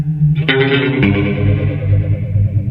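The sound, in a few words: Boss PS-3 pitch shifter with feedback up, warbling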